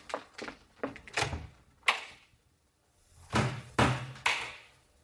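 A bedroom door in an old house is handled, giving a series of sharp knocks and thuds, a cluster early on and then a few heavier bangs after a short pause, fairly close and with no talk over them.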